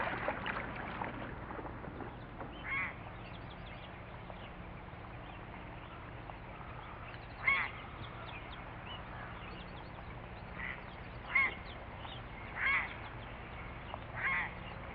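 Bird calls by a river, several short honking or quacking cries spaced irregularly and fairly distant over a low, steady outdoor background, with no talk.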